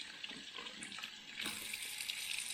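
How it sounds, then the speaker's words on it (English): Tap water runs into a sink while Philips LatteGo coffee machine parts are rinsed, a steady close hiss that swells louder partway through as the flow hits the part. "We'll rinse this. Make sure all the water is off."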